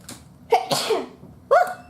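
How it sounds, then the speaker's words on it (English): A single sharp sneeze burst close by, preceded by a short intake and followed by a brief vocal sound, with quiet moments around it. "I had to sneeze"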